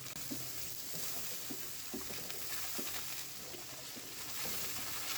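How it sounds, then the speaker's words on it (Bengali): Shrimp frying in oil with whole cumin seeds and chopped onion on a home stove, a soft continuous sizzle with light spattering and occasional stirring taps, fairly quiet and without talk. "তেলের উপর গোটা জিরা দিয়ে দিলাম, পেঁয়াজ কুচি দিয়ে দিলাম, চিংড়ি মাছ দিয়ে দিচ্ছি"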